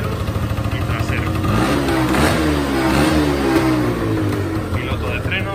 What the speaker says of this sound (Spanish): en cuanto la acelero, con intensidad y en marcha